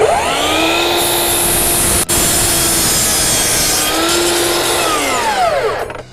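A power saw cuts through a 4x4 wooden post in a steady, loud, continuous whine and grind, with the motor pitch shifting slightly as the blade works through the wood, then winding down at the end.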